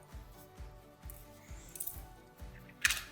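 Scissors cutting string for decorating a bike wheel, a series of soft crisp snips at a roughly regular pace, close by and quiet, ending with a sharper snip.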